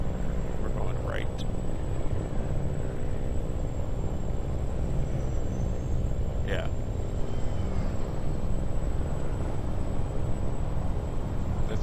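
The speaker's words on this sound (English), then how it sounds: "There's a helicopter around here somewhere. Oh, there it is. You guys saw it pass by." A helicopter flies past in the American Truck Simulator game, a steady low rumbling drone under a constant broadband hiss, while someone talks briefly over it.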